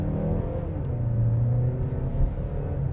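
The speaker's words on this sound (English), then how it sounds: "there's definitely an audio difference. I can hear the engine a lot louder" A 2025 Mazda CX-5 engine in sport mode under acceleration gives a steady, loud low rumble heard from inside the cabin, rising slightly in pitch as it revs, with no talking.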